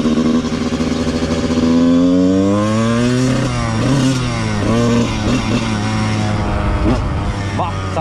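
Honda 125 CR two-stroke motorcycle engine revving while warming up cold, steady loud idle with rising and falling throttle blips throughout, close up and continuous.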